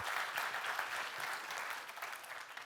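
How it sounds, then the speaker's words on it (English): A conference audience at React Universe Conf 2024 claps steadily for about three seconds, a dense, even wash of many hands with no voices on top. "let's give a round of applause to the CallStack team for organizing all of this"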